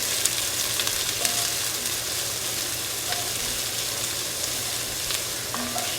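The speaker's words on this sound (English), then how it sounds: "I put a little bit of olive oil in there. Got the onions and the garlic in there." Onions and garlic fry in olive oil in a Dutch oven with a steady close sizzle and crackle. A fan hums low underneath and a few faint clinks of stirring come through.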